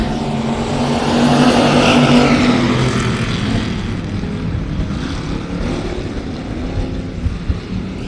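A six-car field of race cars launches into a heat race at Texana Raceway Park, engines roaring loud as they go three wide, the roar peaking early then settling into a steady, slightly fading drone.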